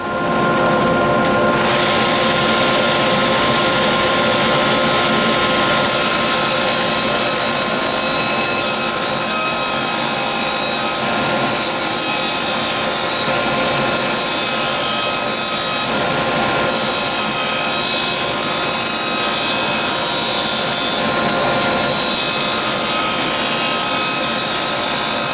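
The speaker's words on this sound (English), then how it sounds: "So we're going to take that piece of 3/4 inch pine, and we're going to head over to the table saw." A table saw cuts a 3/4 inch pine board with a loud, continuous high whine that holds steady for the whole stretch, its pitch shifting slightly as the blade works through the wood.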